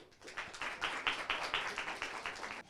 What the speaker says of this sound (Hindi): एक बार जोरदार तालियों से इन सभी का हम स्वागत करेंगे